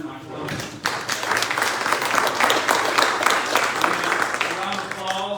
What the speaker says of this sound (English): another round of applause for our presenter, Mike Berlanga.